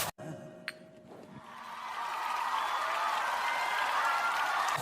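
After a brief clink and a quiet pause, a large TV comedy show studio audience breaks into steady applause that builds and continues to the end.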